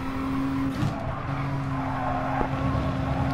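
A race car in a racing video game brakes hard for a corner, its engine droning steadily and its tyres scrubbing, with a loud, continuous sustained whine and brief gear-change blips.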